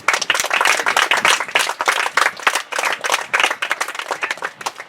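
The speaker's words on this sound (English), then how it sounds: "Come on everybody, clap, come on boys." A crowd at an under-12 cricket final's trophy presentation claps steadily, dense and close, in continuous irregular bursts.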